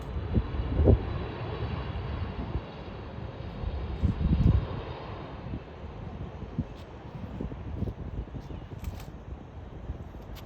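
An airliner landing at Charlotte airport, a broad jet engine roar with wind noise, loud at first and easing as it passes, with a few faint clicks near the end.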